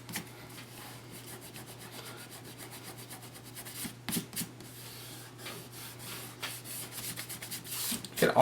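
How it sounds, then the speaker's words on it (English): Card edge rubbed by hand to lift excess adhesive that behaves like rubber cement, a faint, steady dry rubbing texture over a low constant hum, growing slightly louder toward the end. "I'm going to rub the edge again, get the excess adhesive off, which makes little balls."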